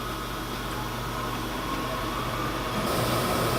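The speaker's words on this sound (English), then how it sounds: "you can hear the laser, the filtration system working in the background" A steady mechanical hum and airy whir of an Epilog laser cutter's filtration system running continuously, close by, growing slightly louder near the end.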